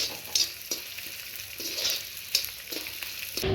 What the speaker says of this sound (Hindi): थोड़ा सा घी डाल लेते हैं दोस्तों। गोंद डाल लेंगे और निकाल लेंगे।